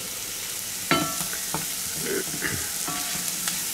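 Mushrooms and shallots sauté in a pan with a soft, even sizzle, broken by a handful of brief scrapes and clinks from a utensil against the pan, heard up close with no speech.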